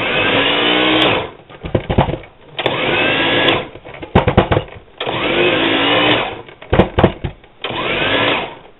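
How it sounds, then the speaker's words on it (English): A food processor grinds vegetables for a chicken, cheddar, bacon and broccoli ramen soup in loud repeated pulses, each roughly a second or two long, separated by short clattering pauses. "What I've got is my food processor. I'm going to kind of grind this down here."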